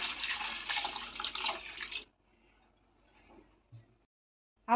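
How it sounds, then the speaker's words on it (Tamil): Water is poured into a pot of cooked lentils and agathi greens for sambar. A loud, splashing pour lasts about two seconds, then cuts off, leaving quiet with faint small clinks. "இப்போ தேவையான அளவுக்கு தண்ணி ஊற்றிக்கலாம்"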